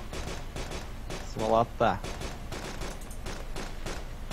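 Gunfire in the video game DayZ: a couple of short loud bursts of shots under someone talking over voice chat.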